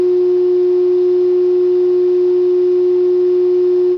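A tuning fork watch gives off a steady, smooth electronic hum, a single pure tone held unchanged and loud, close up and alone until it cuts off at the end.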